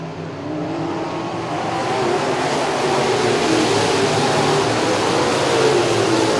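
Modified race cars roar together under green flag racing, a sustained, loud, dense engine drone that builds slightly as the pack runs on.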